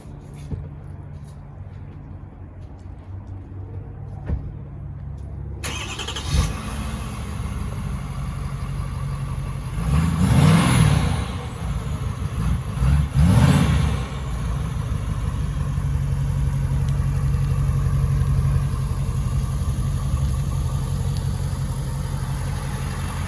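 A 2022 Ford F350 Platinum Super Duty with the 6.7L 475 hp diesel cold-starts in cold weather, then settles into a steady, rumbling idle with two brief swells in revs.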